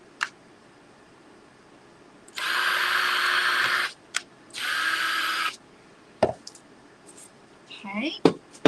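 A power drill bores holes into the corners of a wooden wreath frame for a fall door wreath, in two sustained bursts of steady whine, each about a second and a half, followed by light taps and a few faint clicks.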